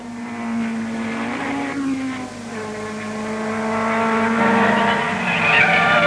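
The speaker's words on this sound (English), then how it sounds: "Lap 4, and Hill moves the BRM up to third." Early-1960s racing cars, a BRM among them, roar around a circuit. Engine notes rise and shift as the cars pass near and loud, with no talk.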